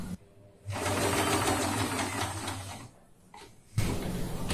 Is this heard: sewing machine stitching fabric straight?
yes